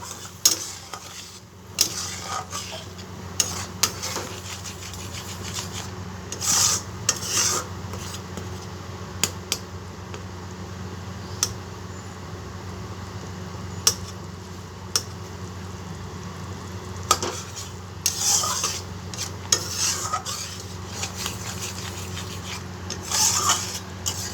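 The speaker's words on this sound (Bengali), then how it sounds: "এবার এটাকে একটু কষিয়ে নেব মশলাটা, যাতে আদা আর কাজু বাদামের কাঁচা গন্ধটা চলে যায়।" Ginger and cashew masala is sautéed in a pan for doi potol, with soft scraping stirs and faint sizzling at a steady low level and occasional sharper ticks of the spatula against the pan, with no talking.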